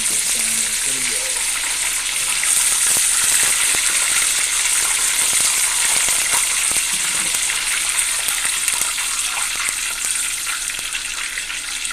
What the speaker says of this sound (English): These onions are sounding pretty good.